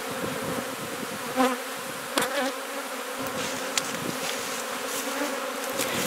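Honey bees buzz steadily around their hive boxes after wintering behind an overgrown hedge, a dense continuous insect drone filling the scene with a few louder bees passing close to the microphone.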